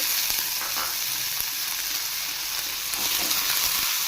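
Tomatoes and garlic fry in a pan for a sprouts sambar, giving a steady, close broadband sizzle with faint stirring scrapes and light crackles, no voices.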